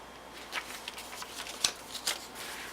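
Cardstock is lined up and folded over at a crease for a fancy-fold card, making soft papery scrapes and a few crisp rustling snaps, close and quiet with no talk.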